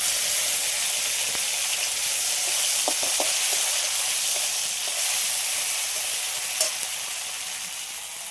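Ground cumin paste hits hot oil with onions already fried until reddish, giving a loud, steady sizzle with a few faint crackles and pops. No voices are heard.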